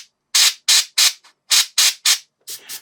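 Airbrush spraying paint onto a miniature model in short hissing bursts, about eight quick sprays in an irregular rhythm with brief gaps, close and crisp with no talk.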